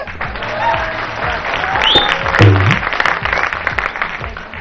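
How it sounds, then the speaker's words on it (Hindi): An audience claps steadily through a light-hearted Hindi cricket talk show about India versus West Indies, with a voice talking over the applause. "ताली बजाओ मेरे"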